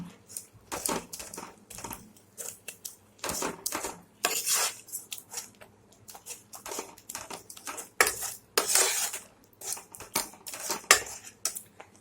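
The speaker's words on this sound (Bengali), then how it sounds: "শাকার কচুটা আমার সেদ্ধ হয়ে গেছে, এখন হাতা দিয়ে একটু থেতলে নেব।" A ladle mashes boiled taro in a metal pot, producing repeated clanking and scraping strokes in irregular bursts with short gaps, close and fairly loud, no talking.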